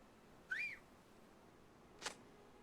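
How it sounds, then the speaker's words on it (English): A short rising-and-falling whistle from Lord of the Rings Online, used to summon a companion, sounds once clearly, followed about a second and a half later by a brief bright chime-like burst. "Summon Anyamat with the whistle"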